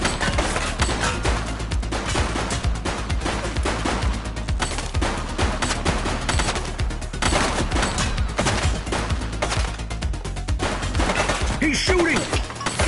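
Sustained gunfire from a shootout in the police video game The Precinct, rapid bursts of automatic fire and fusillades crackling densely and loudly for the whole stretch, with no pauses.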